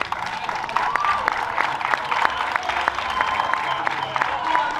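Audience applause at a panel discussion with a pastor, imam and babalawo, steady dense clapping from a crowd held at an even level with some voices mixed in.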